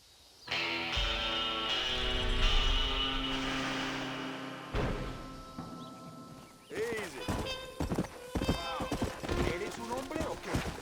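Horse hooves clip-clop in the Red Dead Redemption Western video game. A sustained musical passage comes first, then a busy stretch of uneven hoof strikes mixed with other game sounds and voices.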